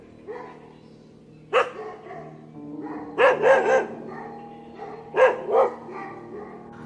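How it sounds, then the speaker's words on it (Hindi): Dogs bark at 3 a.m. near cottage-style lodging, short spaced bursts, some single and some doubled, fairly close against a quiet background. "कुत्तों के भौंकने की आवाज आ रही थी।"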